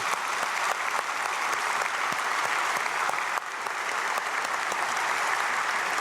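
A church congregation at a Saturday dawn prayer service applauds to thank the pastor, steady dense clapping filling the whole stretch with a brief dip midway, no voices over it.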